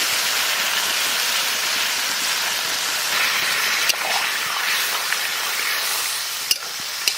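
Water poured into a hot pan of gourd curry cooked with spices sizzles loudly and steadily, with a few sharp clinks from the pan and no voices.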